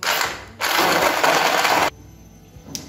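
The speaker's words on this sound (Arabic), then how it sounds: "غادي نبدا نطحنوه بالميكسور" A kitchen blender grinds lemons and oranges in water with a loud, rough whirring and crunching from close by. It runs in two bursts with a short pause between them, then cuts off to quiet room noise.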